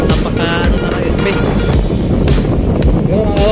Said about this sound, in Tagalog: malakas ng hangin ngayon